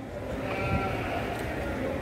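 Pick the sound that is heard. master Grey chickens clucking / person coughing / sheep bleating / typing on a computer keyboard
sheep bleating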